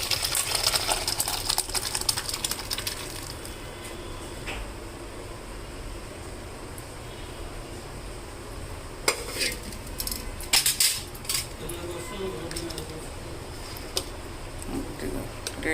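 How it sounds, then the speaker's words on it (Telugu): Thick Andhra-style sambar from Ongole is poured and scraped from a pot into a steel vessel, with clattering metal, clinking utensils and a steady background hum. "ఇప్పుడు దీన్ని మనం చూడండి స్టీల్ గిన్నెలోకి వంపుకుందాం."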